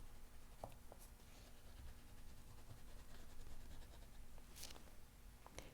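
A colored pencil shading pink onto paper for a citrus fruit drawing: quiet, close, continuous scratchy strokes with a few sharper taps and scrapes, no talking.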